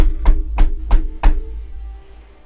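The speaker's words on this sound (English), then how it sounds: "You're woken up by a very loud knocking that" Very loud pounding knocks on a door, four heavy evenly spaced booming blows in quick succession, close and forceful, then the resonance fading out.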